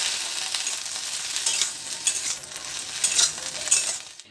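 Yardlong beans (borboti) fry in a pan with steady crackling sizzle and intermittent stirring scrapes, close and fairly loud, with no voices.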